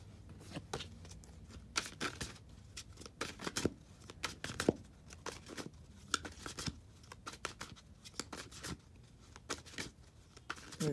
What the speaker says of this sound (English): I'm gonna shuffle the cards in just a second.